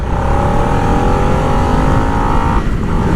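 A Harley-Davidson Sportster Nightster with its 975cc Revolution Max V-twin revs loud and close, holding a steady high-pitched engine note for about two and a half seconds before briefly dropping back and climbing again.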